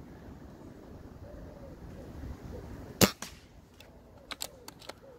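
A Gamo Phox .22 pre-charged air rifle fires a Gamo Pro Hunter pellet, one sharp close crack with a short echo, followed by a few faint light clicks.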